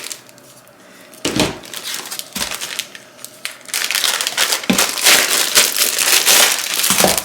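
Crinkle paper for a baby's sewn crinkle book is handled and scrunched, giving bursts of crackly rustling that start sparse and then build into a loud, continuous crinkling close to the microphone.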